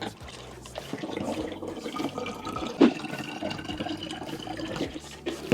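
Apple cider vinegar and maple syrup spritz pours into a spray bottle for barbecuing Texas-style spare ribs, a steady close liquid trickle and fill with small splashes, ending in a louder gurgle.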